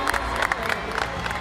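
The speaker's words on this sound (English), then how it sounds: "can we get a big cheer in the audience?" An audience at a Fortnite Summer Block Party creative showdown event cheers and claps, a loud, dense burst of crowd noise with scattered whoops, speech faintly mixed in.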